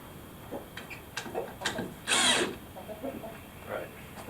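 Power drill driving screws into the sill of an old Amish barn under restoration, a few short whirring bursts with one longer, louder run in the middle, amid scattered knocks and some background talk.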